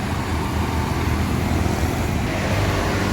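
Dense, continuous road traffic roars around a Sinar Jaya Suite Class bus entering the city of Palembang, a constant broadband rumble of engines and tires close by with no distinct pauses.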